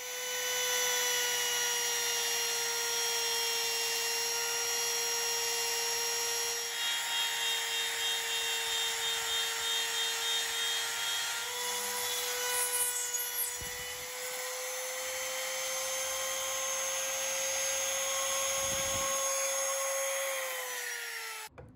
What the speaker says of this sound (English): routed out the recesses freehand, trying to get as close to the line without going over